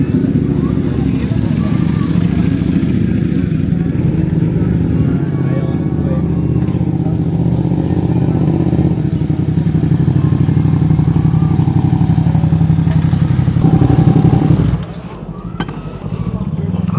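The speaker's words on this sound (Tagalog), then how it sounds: "Comfortable bike. Panigale V2S." A Ducati Panigale V2S motorcycle being ridden on a track, its engine a steady loud drone with wind noise, easing off near the end, while a rider talks over it.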